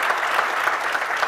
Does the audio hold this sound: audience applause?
yes